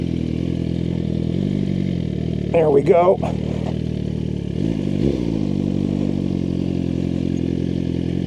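A Suzuki GSX-R1000R sport motorcycle engine hums steadily in launch control in first gear, with a sharp rev burst toward 10,000 RPM midway and a smaller one after; a voice speaks briefly.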